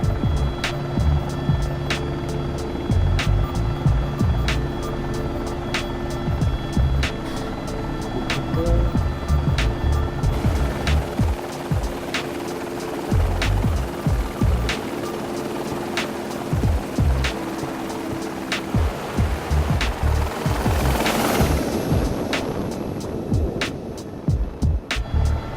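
AS350 B3+ helicopter powering up in a flight simulator game, a continuous loud turbine whine and rotor drone with scattered clicks, swelling toward the end with a rising whoosh.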